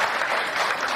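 A brief burst of dense audience clapping at a Hindi poetry recital, steady and fairly loud throughout, with no speech over it.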